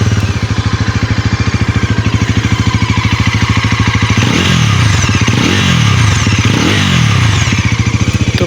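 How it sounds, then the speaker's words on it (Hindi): A Bajaj Pulsar NS400Z 2025 motorcycle with an underbelly exhaust idles loud and close with a fast, even thrum, then is revved three times in a row, each rev rising and falling back to idle. "तो चलो भाई सुनते हैं इसकी एग्जॉस्ट साउंड"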